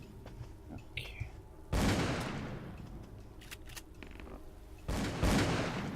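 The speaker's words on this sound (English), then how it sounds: "stop shooting my friends down there" Gunshots ring out in Call of Cthulhu: Dark Corners of the Earth, two sharp loud bursts separated by a few seconds, each decaying with echo over a quiet, faintly murmuring background.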